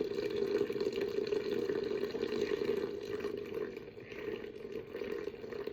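Water pours in a steady stream to feed a sourdough starter, a continuous close trickling splash that softens briefly before resuming.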